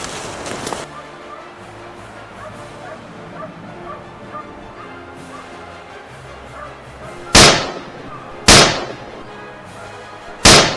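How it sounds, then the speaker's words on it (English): Gunshots fired at a wild boar on a dry, bushy hillside: one loud sharp crack at the start, then three more blasts spaced about a second apart near the end, standing out clearly over a quiet background. "a rapid succession of shots rang out"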